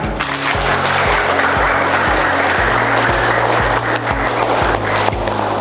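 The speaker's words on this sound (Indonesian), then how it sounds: "Iya, tepuk tangan." Applause from an audience at a teachers' or school gathering, steady and loud dense clapping throughout, with a regular low thumping beat running underneath.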